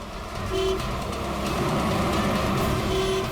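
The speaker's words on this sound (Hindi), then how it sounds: "अरे क्यों हॉर्न मार रहा है?" A car horn sounds in short bursts amid steady traffic rumble, the honks brief and moderately loud against continuous road noise.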